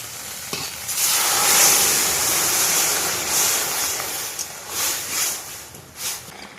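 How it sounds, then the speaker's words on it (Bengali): Water poured into a pan of crab and prawn curry cooking in a Sundarban home kitchen, heard as a broad rushing hiss that swells and then settles into a softer bubbling simmer, close and without talk. "এবার জল দিয়ে দেবো।"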